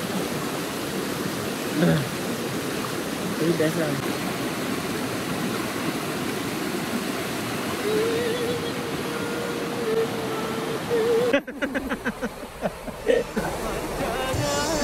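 A riverside stream at a campsite in Lubuk Jong, Sedim flows with a steady broadband wash, and a clattering burst of handling noise cuts in near the end while a voice speaks briefly.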